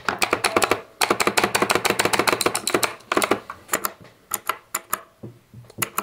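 Rapid bursts of loud, clicky keystrokes on a White-Shark 60% mechanical keyboard, typed in quick runs with short pauses, then slowing to a handful of separate taps near the end; no talking.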